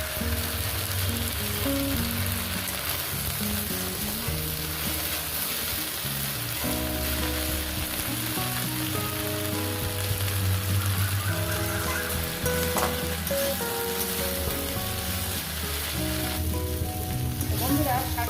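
Kalmi greens frying in a pan with bitter gourd, a steady, fairly quiet sizzle with soft stirring that runs the whole time beneath a faint tonal background.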